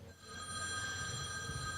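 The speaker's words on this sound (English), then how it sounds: "My mobile is ringing, just silence" A mobile phone rings steadily with a bright electronic tone, sustained and fairly loud in a room, with no voices over it.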